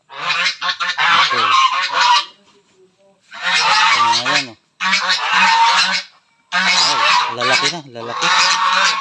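A flock of geese honks loudly and repeatedly in raucous bursts close by, with short pauses between the noisy outbursts.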